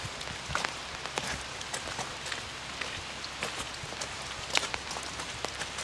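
Steady rain on a rainy day near Elkmont Campground, a dense continuous patter with scattered louder drips, moderately quiet and heard without talk.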